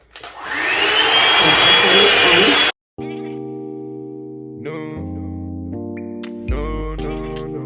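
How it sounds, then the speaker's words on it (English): A Revlon hair dryer blows with a steady loud whoosh for a few seconds, then cuts off, and music follows. "this is the blow dryer that I'm using"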